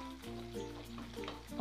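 Oil sizzles steadily in a frying pan, with a little flour added to the hot oil so it doesn't spatter while frying chicken or fish; a close, continuous crackle with small pops, no voices.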